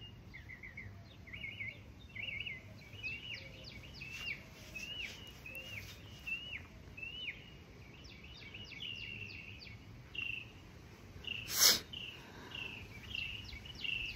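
Birds chirp and call in short repeated phrases outdoors in Texas, faint and distant over a low background hum, with one sharp louder note near the end.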